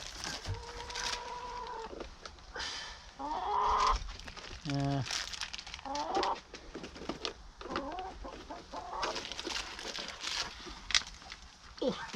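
Chickens at an allotment cluck and squawk close by in scattered bursts, with a few sharper calls among steady low background noise.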